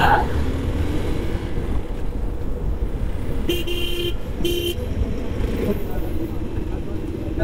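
Busy road traffic on a bike ride near Shirdi, with a constant engine rumble and two short car horn toots, while someone talks over the din.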